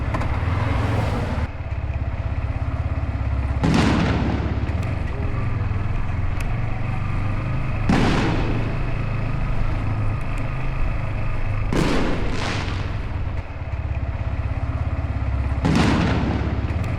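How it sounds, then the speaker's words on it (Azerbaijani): Fireworks burst during a Novruz celebration, five sharp loud explosions at irregular intervals of a few seconds, heard over the constant low rumble of a motorcycle engine. "Novruzda birinci dəfə də görəm fişəng atırlar"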